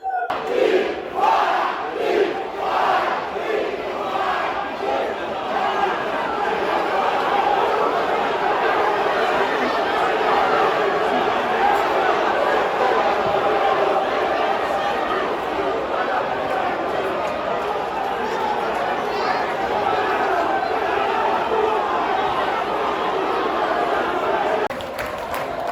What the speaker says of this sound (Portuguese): Tá rolando uma confusão ali, torcida do Guarani xingando alguém.